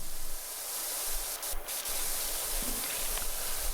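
A high-power pressure washer spray gun in the video game PowerWash Simulator 2 hisses in a steady, loud, broad rush that keeps going without a break, with a brief dip partway through and no voices.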